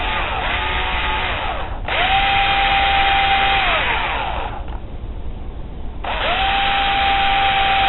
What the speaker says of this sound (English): I also have to stay straight on like this, so I don't drill out through the bottom of the lure.